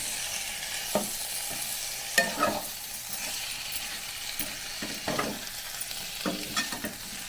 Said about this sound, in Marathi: त्याच्यामध्ये आपण केळी टाकून घेऊया शिजून घेतलेली आता हे व्यवस्थित मिक्स करून घ्यायचं